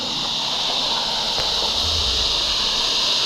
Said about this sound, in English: These crickets are so loud.